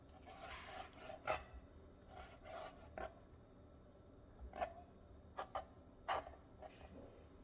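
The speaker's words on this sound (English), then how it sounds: "all I'm going to do is slice or cut these into strips" A knife slices cubed steak into strips on a cutting board, producing faint, scattered rubbing and soft knocks in short bursts, with quiet pauses between the strokes.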